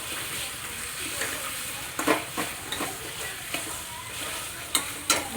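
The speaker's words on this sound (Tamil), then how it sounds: "இந்த ஜீனி நல்லா கலந்து நல்லா கன்சிஸ்டன்சியாக எல்லாம் சேர்ந்து" Bread halwa with sugar is stirred in a pan, soft sizzling under intermittent scraping strokes and a few sharper clicks of the utensil, close and unaccompanied by talk.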